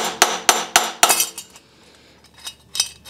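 Four sharp metallic hammer blows on a wrench, loosening an up pipe on a 7.3 Powerstroke engine, ring out in quick, even succession, followed by quieter clinks and a couple of softer taps.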